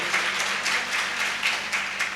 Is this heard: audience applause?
yes